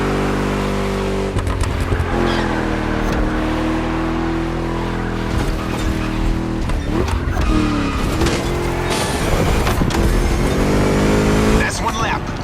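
A Ford Mustang engine revving and shifting through a lap in The Crew Motorfest, with rising and falling engine pitch, occasional tire squeal and a voice talking over it.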